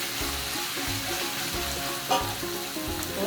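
Noodles with oyster sauce, Worcestershire sauce and fish oil being stir-fried in a pan for street-style mie goreng, a steady close sizzle with rhythmic scraping and stirring strokes repeating about every half second, no voices.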